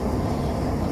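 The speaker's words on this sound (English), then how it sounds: "So I'm on the plane now" Steady low rumble of an American Airlines plane cabin while parked before takeoff, a continuous engine and air-system drone at even, moderate loudness with no talking.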